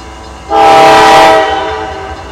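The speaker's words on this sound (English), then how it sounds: "That's a trash train." A freight train horn blares loudly for about a second, with the rumble of a slow-moving trash train passing underneath before and after.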